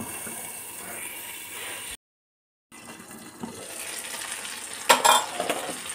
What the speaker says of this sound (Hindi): बैंगन फ्राई।